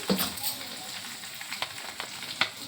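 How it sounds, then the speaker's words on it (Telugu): Dried red chillies, curry leaves, chana dal, urad dal and asafoetida crackle and sizzle in hot oil for a tempering, with soft steady frying, a few sharp pops and occasional utensil clicks. "ఇవన్నీ మంచిగా జోరగా వేగింది కదా తాలింపు"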